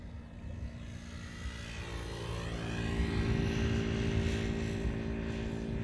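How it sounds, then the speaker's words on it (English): A KLM Boeing 777-200 airliner, 22 years old, arriving at Amsterdam Schiphol after a long flight from Rio de Janeiro, gives a steady broad jet roar that swells gradually in the middle and holds loud and near, with no talk. "a 777-200 up next, arriving from Rio de Janeiro, KLM Flight 706"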